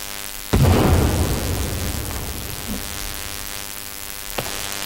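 Dynamite goes off in the survival game The Forest, one heavy close blast with a long rumbling decay over a steady electrical hum, then a faint thump and a small crack later.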